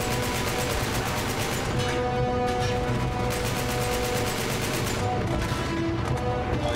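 Sustained gunfire from the video game Uncharted 3, a dense continuous barrage of rapid shots and blasts that stays loud throughout with no gaps, all effects and no voices.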